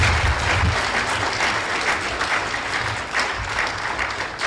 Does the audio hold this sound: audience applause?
yes